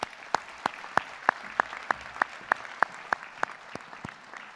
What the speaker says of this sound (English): Round of applause for our business students.